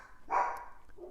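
A single moderately loud dog bark sounds indoors during a package delivery, followed by a faint trailing yip.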